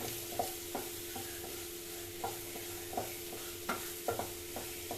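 Ridge gourd and egg stir-fry sizzles quietly in a pan, with light, regular spatula taps and scrapes every half second or so over a low, steady hiss.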